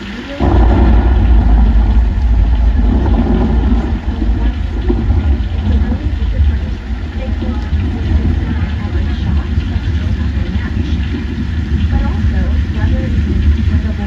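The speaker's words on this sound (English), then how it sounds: "how much scarier are those scenes when the thunder's crashing and the lightning's flashing right at all?" Staged thunderstorm effect on a studio backlot tour, a loud sustained deep rumble that starts abruptly and rolls on for over ten seconds, with a vehicle engine droning underneath.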